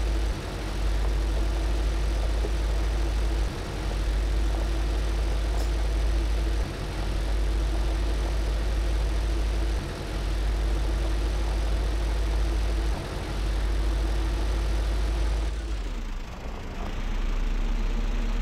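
A Ursus tractor engine in the Farming Simulator 15 game runs at a steady, loud low idle-like drone throughout, briefly dipping near the end.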